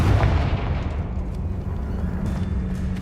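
Confringo blasting spell going off in Hogwarts Legacy, a dense, loud, low rumbling explosion with a strong thump at the start that stays heavy and sustained throughout.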